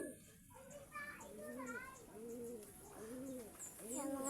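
Pigeons coo in soft, repeated rising-and-falling calls through the whole stretch, with bursts of overlapping cooing from several birds close by and faint children's voices and background chatter mixed in.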